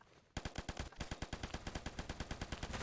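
An M60 light machine gun fires a sustained automatic burst in the Phantom Forces video game, starting abruptly after a brief quiet and continuing as a rapid, even stream of loud, sharp shots.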